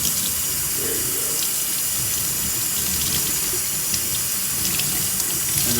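A tap runs steadily onto a dry towel to dampen it for cleaning an Alcantara steering wheel, giving a continuous close splashing rush with no voices.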